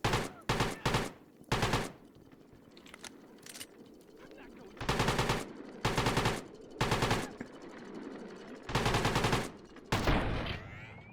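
Bursts of AK rifle fire from a video game, several loud automatic volleys separated by short pauses, with game ambience and a voice talking between the shots.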